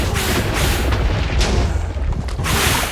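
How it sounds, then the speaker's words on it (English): Continuous heavy booming blasts rumble one after another, dense and loud, a barrage of Minecraft explosions in a Warden versus Wither mob battle, with no pauses between them. "all the vibrations it can make from all these explosions"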